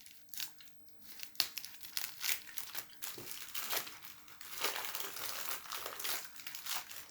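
A Monblan cream-praline candy wrapper being opened, with close, continuous papery crinkling and crackling in bursts that swell louder toward the end.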